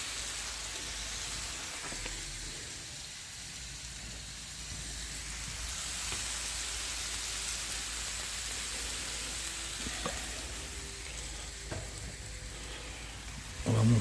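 Food sears in hot oil in a pan, sizzling and hissing steadily throughout without pause, close and fairly loud, with a brief clatter at the very end.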